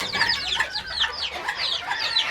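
Serama chickens clucking and calling in a busy, overlapping chatter of short, bright notes, with a rooster among them, heard close and continuous with no talk.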